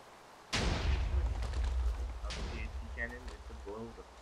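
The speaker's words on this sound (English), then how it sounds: "So here we go, and let's fire." A TNT cannon in the Minecraft video game fires with a sudden loud boom and explosion rumble, followed by trailing blast debris sounds, as a person speaks over the aftermath.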